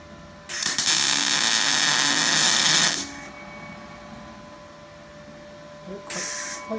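Welding on a steel axle truss gives a loud, harsh crackling buzz with spatter for about two and a half seconds, then quiet, then a short second burst.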